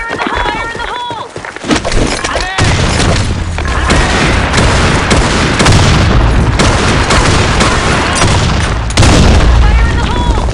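Grenade blasts in the online shooter BlackShot, heavy booming explosions with rumbling tails over continuous gunfire, loud and close, while voices shout repeated radio-style callouts.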